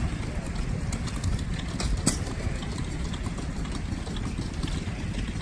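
A stationary gas engine idles at a steam show, a constant low mechanical rumble with a brief sharp knock midway, steady and moderately near, with faint voices in the background.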